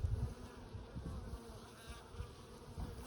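Honey bees from a hive being inspected buzz in a low, restless drone close by, agitated, the hum rising and falling unevenly.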